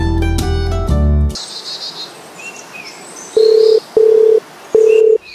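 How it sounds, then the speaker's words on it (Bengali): A phone call rings out unanswered: a loud harmonic burst opens, then a quiet pause gives way to three evenly spaced ringback tones, each a steady beep of under half a second, over faint background hiss. "ছোট ভাইয়ের একটা কল দিয়ে দেখি ভাই কই আছে।"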